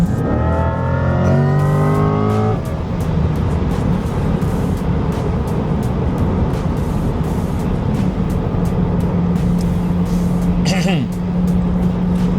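A 2026 Corvette E-Ray hybrid with an electric motor pulls hard, a brief rising engine tone at the start giving way to a loud, steady roar of road and drivetrain noise, with a faint whine climbing near the end.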